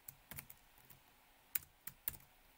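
Faint keystrokes on an American-layout computer keyboard, about seven or eight scattered clicks in short bursts, close but quiet, with no talking.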